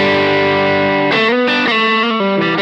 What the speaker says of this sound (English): Let's switch it on.